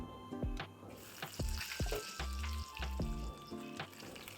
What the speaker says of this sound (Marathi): जी वांगी होती ती आपल्याला छान अशी परतून घ्यायची आहे